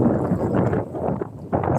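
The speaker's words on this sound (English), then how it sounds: "It's crazy windy out here." Strong wind gusts roar steadily outdoors at a dock in rough weather, a broad rushing buffeting against the microphone that dips briefly and surges back loud.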